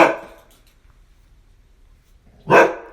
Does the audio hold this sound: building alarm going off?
no